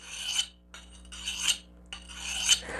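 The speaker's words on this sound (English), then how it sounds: "I'm just gonna take the burr off that I can feel" An S90V steel knife edge is deburred with three distinct rasping strokes, each a short close scraping sweep separated by brief quiet gaps.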